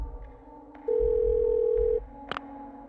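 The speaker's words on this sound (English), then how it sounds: "Yeah, it's an old school rotary phone. Seems to be in working order. Well, let's call up headquarters." An old rotary phone in the video game Parasite Eve 2 emits a single steady tone lasting about a second, followed by a brief click, over a faint background hum.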